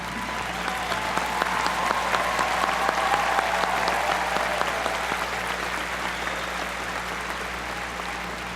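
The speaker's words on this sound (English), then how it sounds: "please join me in recognizing them with your applause for their contribution" A commencement audience applauds faculty and staff with sustained, dense clapping from a large crowd, steady and even throughout with no talk above it.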